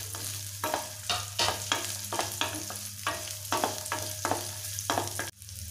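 Onion, ginger and chili frying in oil for a gravy, with steady sizzling broken by repeated scraping stirs at an even rhythm, close and clear with no talking.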